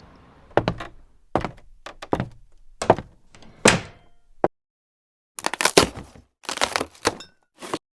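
A series of loud, separate door thunks and knocks, several sharp hits followed by heavier slams, with short silent gaps between them and no talk.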